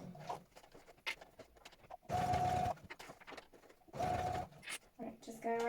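A sewing machine runs in two short bursts while backstitching over bulky slipper seams, with a person talking quietly in between and around the stitching runs.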